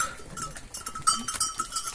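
Goats on a farm alongside watermelon, corn and okra crops, with a clanking cowbell-like ringing and scattered animal sounds, moderately close, irregular and busy over a couple of seconds.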